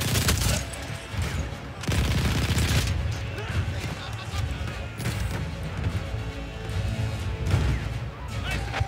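Hip-fired gunfire in the Battlefield 1 campaign, shot by a player wearing a gas mask, comes as loud, dense bursts of rapid shots that run almost without a break, layered over heavy battle din.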